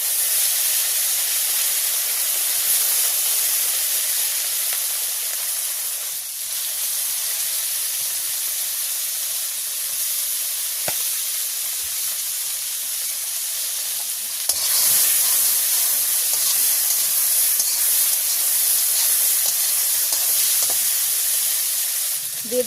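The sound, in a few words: tomatoes sizzling in hot oil with dried chilli and bay leaf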